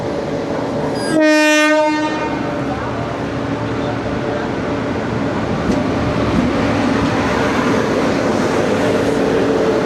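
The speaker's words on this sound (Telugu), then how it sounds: "సో మన ట్రైన్ అయితే సికింద్రాబాద్ రైల్వే స్టేషన్కి ప్లాట్ఫామ్ నెంబర్ 2 మీదకి అయితే వచ్చింది" A passenger train pulls into platform 2 at Secunderabad railway station, sounding one loud horn blast of about a second early on, followed by a continuous heavy rumble of rolling wheels and cars close by.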